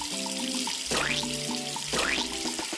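Hot water runs from a tap to fill a bath for toy baby dolls, a steady splashing stream heard close up over light background music.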